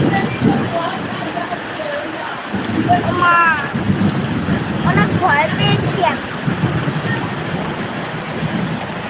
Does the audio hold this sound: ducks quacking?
no